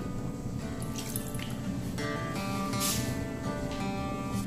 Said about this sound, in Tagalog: Dagdagan pa natin dito ng tubig